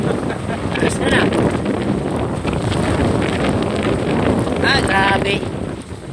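Strong typhoon wind around 120 km/h blowing outdoors with rain, roaring and buffeting the microphone continuously at close range, with faint voices beneath.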